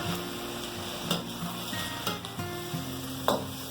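Shrimp sizzling in a hot pan alongside stirring and light clatter from the pan, a steady crackling hiss with a few soft knocks, close and fairly loud.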